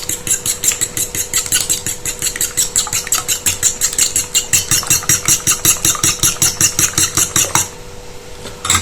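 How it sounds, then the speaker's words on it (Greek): Rapid, rhythmic clicking of a fork whisking eggs against a bowl, fast and steady for several seconds before stopping abruptly. "Με ένα πυρούνι θα χτυπήσουμε λίγο τα αυγά"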